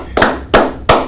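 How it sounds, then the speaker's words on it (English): Hands clapping on a sports talk show, three loud, sharp claps close to the microphone at an even, slightly slow pace, with no voices. "I gotta keep clapping"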